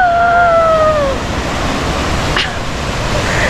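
A mountain waterfall pours in a steady, loud broadband roar that fills the whole clip, with a brief whistling tone over it at the start.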